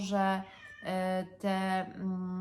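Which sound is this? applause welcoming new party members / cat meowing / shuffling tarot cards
cat meowing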